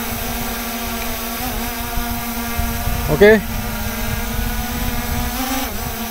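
An SJRC F22 GPS drone hovers in strong wind, its steady propeller whine holding throughout with slight pitch wobbles as it struggles to stay stable, while a person speaks briefly over it.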